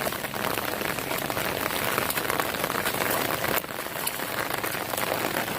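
Steady heavy monsoon rain in a Konkan farm field pattering on a hard surface, a dense continuous hiss without pauses.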